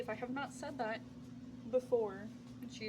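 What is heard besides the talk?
No everyday noises stand out.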